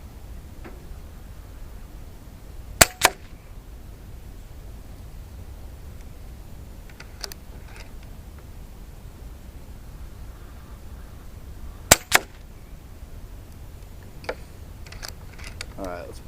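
An Umarex Zelos air rifle fires Target Diablo pellets: two sharp, close double-cracks stand out several seconds apart over a quiet background, with a few fainter ticks and handling clicks in between.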